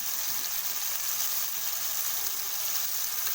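Chopped tomatoes and spices fry in mustard oil with black cumin, giving a soft, steady hiss of sizzling at moderate distance with no other sounds.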